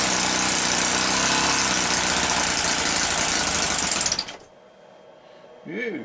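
A Nipsa 7.5 OHV four-stroke model engine roars loudly at open throttle for about four seconds, then cuts out abruptly, leaving a quiet tail with a short voice near the end.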